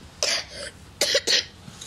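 A young girl with an asthma-like condition coughs in three short bursts close by: one harsh cough, then a pause, then two quick coughs in succession.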